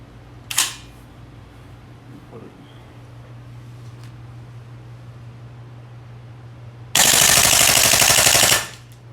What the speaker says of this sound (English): now I'm going to quickly run a few rounds through here on fully auto